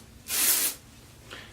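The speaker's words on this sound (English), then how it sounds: "You don't want to hold the dry shampoo too close to your head or it's not gonna work as well." Dry shampoo sprays onto hair in one bright, hissing aerosol burst about half a second long, followed by a much fainter brief puff, close and without talk.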